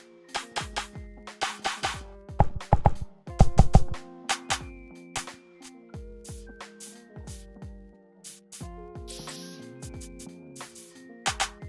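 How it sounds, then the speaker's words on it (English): A punchy electronic drum pattern of kicks, snares, hi-hat clicks and percussion, built from a processed sample in the Beatsurfing VRAC+ plugin, playing alone in a busy, syncopated rhythm. "So you get a kick, a snare, a hi-hat and percussions with this plugin"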